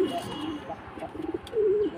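Pigeons coo inside an indoor loft, low murmuring calls rising and falling close by, with one longer, clearer coo toward the end.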